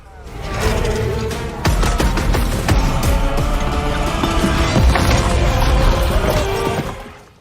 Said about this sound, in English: They synced the gunshots with the music.